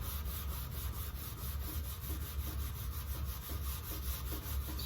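Steady, close scrubbing on the heat-tarnished lid of a recteq Bullseye grill, a continuous rhythmic back-and-forth rubbing with a dry, sanding-like texture and no talk.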